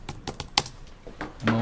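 A handful of crisp keyboard keystrokes are typed in a quick, uneven rhythm on a computer, close and clear, before a brief tonal sound at the end.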